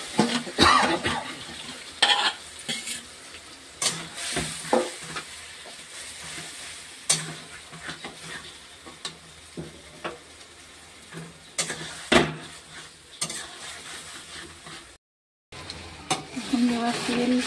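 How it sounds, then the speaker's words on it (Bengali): Mutton frying in oil with a spoonful of whole cumin, a steady sizzle broken by repeated clanks and scrapes of a spoon stirring the pan, with one brief gap of silence near the end. "এবার মাংসটা ওর মধ্যে দিয়ে দেওয়া হচ্ছে।"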